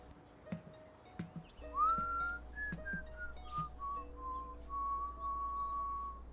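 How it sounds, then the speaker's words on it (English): A person whistles a slow tune close by, moving through a few sustained notes, over a low steady hum and a few sharp knocks at the start. "What's that you're whistling?"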